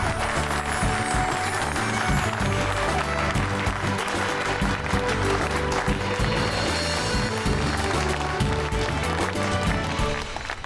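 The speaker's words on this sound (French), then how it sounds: "je vous demanderai d'applaudir bien fort le couple que nous célébrons aujourd'hui" Party crowd applauding a celebrated couple at a festive gathering, dense sustained clapping that fills the whole stretch at a loud, even level with a faint voice underneath.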